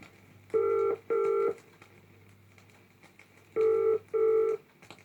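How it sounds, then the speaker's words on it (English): A Post Office telephone service ringing tone sounds in two pairs of steady buzzy pulses, separated by a pause, over a faint line hiss. "It may take a few seconds till you hear the ringing tone."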